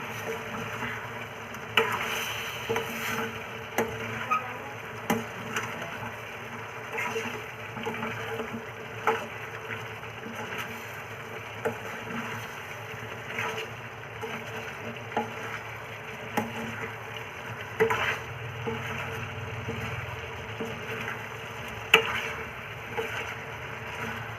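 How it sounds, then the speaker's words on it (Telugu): Chicken curry with added salt being stirred in a pan, a steady soft scraping and sizzling texture with small regular clinks of the spoon throughout, close and moderately quiet, no talking. "ఇప్పుడైతే సాల్ట్ వేసుకున్నాం బాగా ఒకసారి కలుపుకుందాం"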